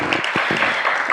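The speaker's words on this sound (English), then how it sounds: "why not another round of applause?" Audience applause at a Quebec mosque shooting remembrance event, a brief burst of steady clapping from a seated crowd, fairly close and even in loudness.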